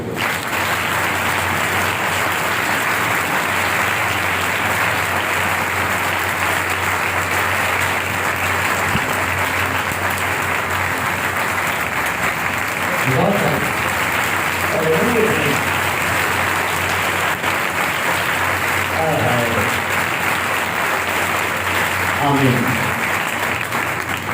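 A church congregation applauds in a long, dense wash of clapping that stays loud and steady, with a few voices briefly calling out over it in the second half.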